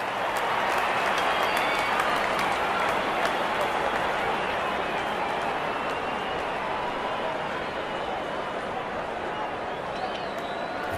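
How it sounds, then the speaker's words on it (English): A cricket video game crowd cheers and applauds in a steady, dense roar that holds for the full stretch without fading, with faint claps scattered through it. "Crowd is enjoying every bit of this action."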